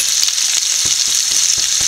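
Sliced onions and potato masala sizzle and fry in a pan, a bright continuous crackling hiss with a few soft stirring scrapes, close and alone without speech.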